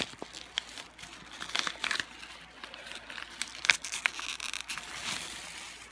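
Christmas wrapping paper being crumpled and crushed close up, with a steady run of crinkling bursts and a few sharper crackles over several seconds, no talking.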